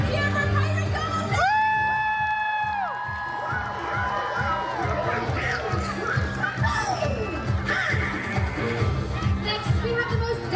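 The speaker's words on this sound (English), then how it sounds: "Please give a big Buccaneer cheer for Pirate Gold!" Crowd cheering and shouting at a pirate show on a Disney cruise ship, a dense continuous roar of voices with whoops and children's shouts over steady background music.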